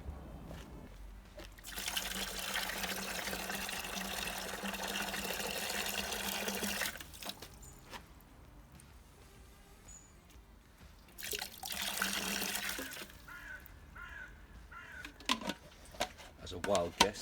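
Water poured from a measured container into a bucket for a four-litre self-levelling concrete floor mix, a steady close trickling pour in two bursts separated by quieter handling, without speech.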